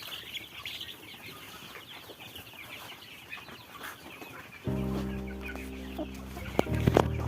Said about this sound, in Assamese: আৰু এয়া কয়লাৰৰ ডাঙৰ কয়লাৰ এই চব কয়লাৰ পোৱালি